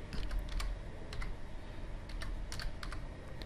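Folder names typed on a Windows computer keyboard, with a steady run of quick, close key clicks, some in short bursts, over a low background hum.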